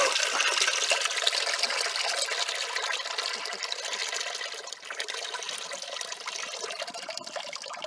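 Rusty water pouring and draining out of a disassembled boom truck component, a steady close splashing gush that runs without a break and eases slightly toward the end.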